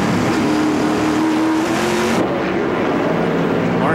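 Race car engine at full strain during the Canadian Tire 100 in Edmonton, a loud continuous high-revving roar with a steady engine tone, close and sustained, with a brief shift in pitch partway through.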